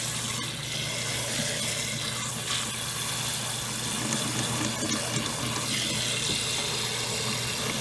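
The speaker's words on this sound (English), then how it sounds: "We're going to cover this good with water." Tap water pours steadily into a cooking pot to cover a beef shank, a continuous close, loud rushing splash with no talking.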